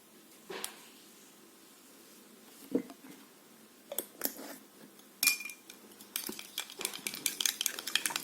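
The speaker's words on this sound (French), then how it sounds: "Nous allons bien mélanger." Homemade serum mixture being stirred in a bowl: scattered clinks and scraping taps of a utensil against the bowl, sparse at first and then quicker and more frequent, quiet and close, with no voices.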